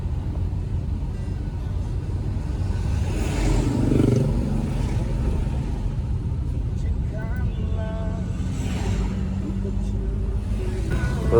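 A car driving along a road near Lake Toba: a steady low engine and tyre rumble throughout, with occasional passing sounds and intermittent talking over it.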